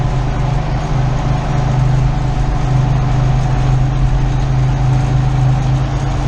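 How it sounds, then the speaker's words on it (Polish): An Ursus tractor with a Perkins engine idles steadily and loudly nearby, a constant low rumble with no talking. "dzisiaj tata ten silnik Perkinsa skończył,"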